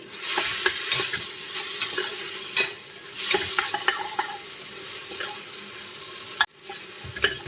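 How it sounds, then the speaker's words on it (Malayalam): Coriander leaves and turmeric being sautéed for mutton biryani, steady sizzling with repeated spoon scrapes and clicks against the pot, close and fairly loud, ending with a sharp knock. "മല്ലിയിലയും കൂടെ ചേർത്തിട്ട് നമുക്ക് നന്നായിട്ടൊന്ന് വഴറ്റിയെടുക്കാം."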